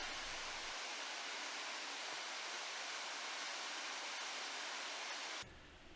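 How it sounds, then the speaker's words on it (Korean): Daeseung Waterfall pours its stream of water in the evening, a dense, constant hissing roar from nearby that shifts in tone just before the end, with no voices. "저녁에 촬영한 대승폭포의 물줄기입니다"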